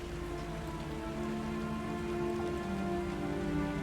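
Steady rain falls without a break as ambient background for a Dungeons & Dragons tabletop session. The even hiss and patter of drops on a surface stay loud and close throughout, with no voices.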